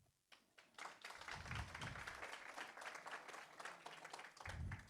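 Audience applauding at a talk on agility and resilience, a dense burst of clapping that swells quickly and holds steady for several seconds, with a few voices mixed in.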